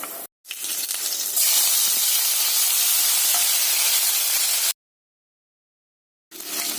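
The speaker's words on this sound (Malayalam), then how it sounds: "എണ്ണ ചൂടായി കടുക് ഇട്ട് കുറച്ച് ഉലുവ ഇടണം" Mustard seeds, fenugreek and asafoetida sizzling in hot sesame oil for a mango pickle, a loud bright hiss that starts abruptly, holds for several seconds, cuts to silence and then returns.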